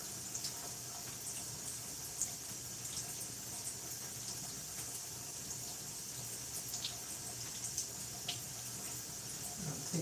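Running water poured over hair during a wash at home, a steady, fairly quiet splashing and trickling that continues evenly throughout with small bursts and no talking.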